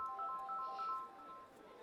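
A mobile phone gives a short melodic electronic ringtone of repeating beeps. It plays faintly over steady background noise in an indoor film scene, and the ringing fades partway through.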